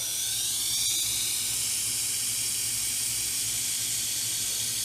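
A garden hose sprays a strong, steady hiss of water to rinse freshly dug potatoes grown in rice hulls, continuous and close, with a low rumble underneath.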